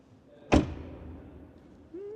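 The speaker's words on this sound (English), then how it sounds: "Then door closing sound." A single Skoda Enyaq car door shuts with a solid, close thump, followed by a short quiet tail and then a faint hum.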